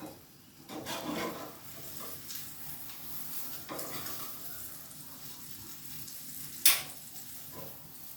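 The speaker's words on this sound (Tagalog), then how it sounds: "Prito na lang sang isda mga kabor, Paris." Fish frying in a pan for breakfast, a soft steady sizzle with occasional clinks and stirring noises, one sharp tap near the end, no voices.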